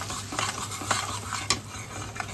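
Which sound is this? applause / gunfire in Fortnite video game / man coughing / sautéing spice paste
sautéing spice paste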